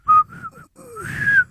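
A man whistles a short, wavering tune in imitation of someone whistling, clear and close, with a few sliding notes and brief breathy pauses between phrases.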